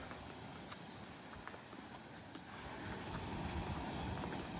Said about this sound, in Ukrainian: Море хвилюється.